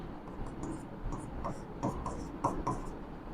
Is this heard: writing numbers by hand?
yes